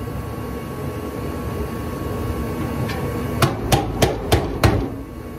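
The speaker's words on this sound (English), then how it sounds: "Get your little hammer." Five sharp metallic taps from a small hammer striking a Ford Crown Vic's 302 V8 engine, evenly spaced and close, rising above a steady background hum.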